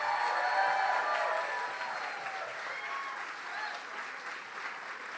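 A town hall audience in North Carolina gives a big round of applause for Representative Robert Reeves: dense, steady clapping that stays loud throughout and eases only slightly toward the end.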